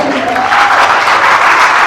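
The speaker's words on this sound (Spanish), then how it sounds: "Denle un fuerte aplauso." Loud, dense applause and cheering from a church congregation fills a short burst with continuous crowd noise. Nothing rises above the general roar.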